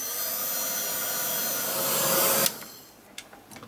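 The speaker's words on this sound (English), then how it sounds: "just give that a quick blast with the heat gun" A heat gun blows hot air over mixed media art, a steady loud broadband whoosh lasting about two and a half seconds before cutting off, followed by a few faint handling knocks.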